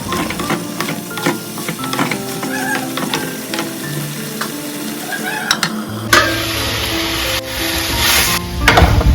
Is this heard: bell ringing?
no